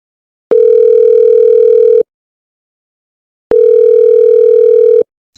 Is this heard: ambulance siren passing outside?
no